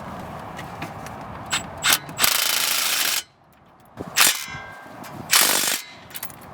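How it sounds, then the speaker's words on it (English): Ratchet wrench tightening a brake caliper bolt on a car, close bursts of rapid metallic clicking separated by short pauses, no talking. "Now I'm just gonna lightly, fully tighten it down with this guy."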